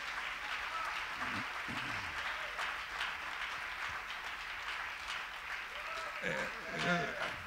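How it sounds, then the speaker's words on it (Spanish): A church congregation claps steadily for several seconds, a dense patter of applause with voices calling out over it near the end. "Le damos un fuerte aplauso al Señor."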